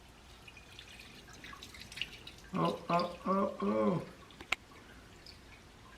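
Coolant gushes out of a truck radiator in a splashing, dripping stream, with a voice breaking in briefly partway through.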